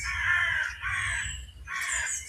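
Blue tits calling nearby in a string of rough, churring bursts that run almost back to back, with a brief thin whistle among them and low background rumble.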